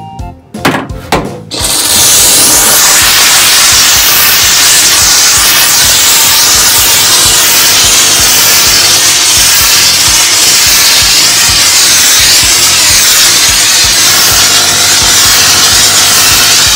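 A Kärcher SG4/4 steam cleaner runs after a few brief clicks, giving a loud, steady, close hiss of steam jetting that continues unbroken for a long stretch.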